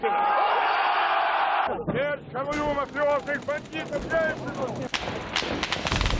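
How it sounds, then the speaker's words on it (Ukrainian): Rapid gunfire crackles in a quick burst near the end on the streets of Moscow in 1993, following loud shouting and crowd voices that fill most of the scene. "Стрілянину на вулицях Москви показують в прямому ефірі по центральних каналах"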